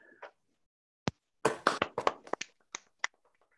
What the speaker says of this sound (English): maybe give Clive an actual audible applause